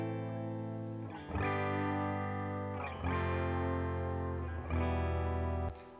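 Sustained distorted chords of a reggae backing track ring out, changing roughly every one and a half seconds, washed in echoing delay and reverb from effects pedals, with no voice.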